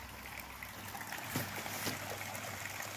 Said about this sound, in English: I can't turn that waterfall off